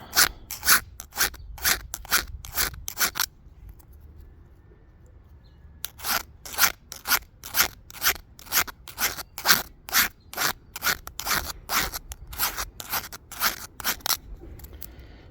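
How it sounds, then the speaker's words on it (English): A metal hand file rasps back and forth smoothing rough metal pieces of a tent stove, a steady run of quick scraping strokes, a brief pause, then another rhythmic burst of close, crisp filing. "File this back a little bit. Kind of smooth those pieces out."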